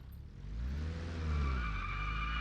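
A car accelerating in reverse in the game Arma Reforger, a steady low engine drone rising in pitch with a whining tone that climbs over the final second, close and continuous.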